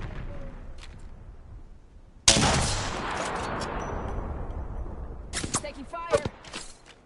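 Video game gunfire from the game Predator: a loud broadband burst erupts and sustains for a few seconds, decaying slowly, followed later by a flurry of sharper shots.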